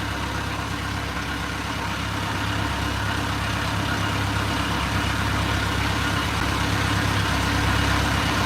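A fishing boat engine idles steadily, a constant low rumbling drone heard from on board with no breaks or changes in pitch.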